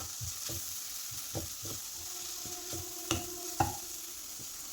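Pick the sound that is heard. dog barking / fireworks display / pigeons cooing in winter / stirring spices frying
stirring spices frying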